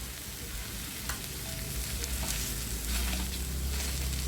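Red chili masala frying in a pan, a steady loud sizzle with occasional stirring scrapes, continuous and close with no talk.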